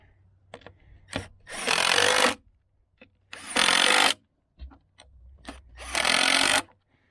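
A power driver sinks screws into the front legs of a plastic Adirondack chair in three sustained whirring bursts, each a couple of seconds long, separated by quiet pauses with small handling clicks.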